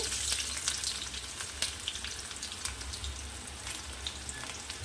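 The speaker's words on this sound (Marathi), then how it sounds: "कांदा ॲड करू झाले मोहरी तडतडली" Mustard seeds crackle in hot oil, a steady sizzle with quick scattered pops, close and fairly soft, with no talking.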